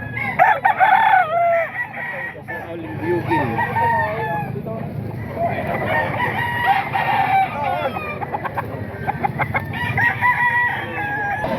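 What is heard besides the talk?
roosters crowing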